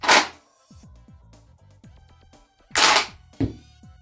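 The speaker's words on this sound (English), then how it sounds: "rack the charging handle, and pull the trigger." A Manticore 40mm airsoft grenade launcher fires two sharp, loud pops a few seconds apart, with mechanical clicks and a softer third report, close to the listener.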